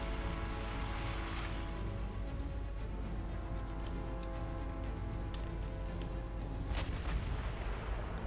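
Warship guns from a naval battle game featuring Bismarck versus Hood, heard as a steady, dense rumble of distant cannon fire. A brief crackle of sharper reports comes near the end.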